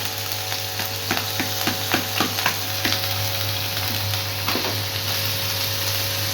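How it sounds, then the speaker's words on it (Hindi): Onion and capsicum sizzle in hot ghee in a pan in a village kitchen, a steady frying hiss with a low hum underneath and a run of soft stirring scrapes and clinks. "प्याज डाल दिया, ये फ्राई होने के लिए रख देंगे।"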